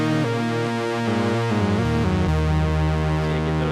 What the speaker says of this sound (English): you get those huge kind of fat mono synth sounds